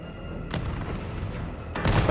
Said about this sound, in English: So the dude has a rocket launcher.